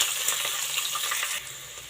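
Onion, curry leaves and ginger-garlic paste fry in a pan for a radish gravy, giving a steady close sizzle with light stirring scrapes.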